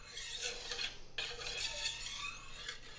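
A kitchen knife is honed on a magnetic sharpener with a few quick, soft rasping strokes and a brief break between them, faint and close, with no voices.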